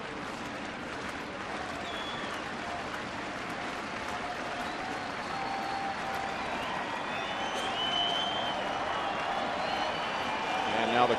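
A baseball crowd at a Seattle at Kansas City game applauds and cheers in a sustained, distant wash that grows slightly louder toward the end, with a commentator talking over it.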